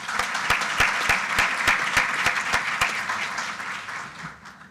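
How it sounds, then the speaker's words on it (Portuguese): Auditorium audience at a public law congress applauding, with dense clapping and a few sharp claps standing out close by, tapering off toward the end. "doutora Dalide Correia, a quem pedimos as vossas palmas."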